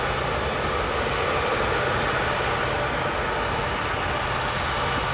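A military transport aircraft of the 164th Airlift Wing, Tennessee Air National Guard, at Memphis Air National Guard Base gives off a steady, moderately loud engine roar that stays even throughout, with no voices.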